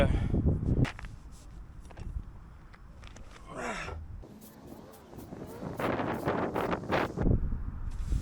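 Gusts of wind buffet the microphone in uneven bursts, rising and falling from loud rumbling blasts to quieter stretches, with rustling between gusts.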